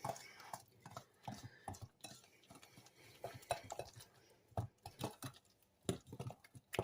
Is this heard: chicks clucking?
no